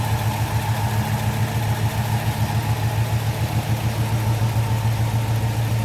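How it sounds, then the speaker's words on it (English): A 1967 Chevrolet C10 pickup with its original-style V8 idling steadily and smoothly, a loud, even low rumble with a regular pulse throughout and no voices. "See how smooth that engine is running."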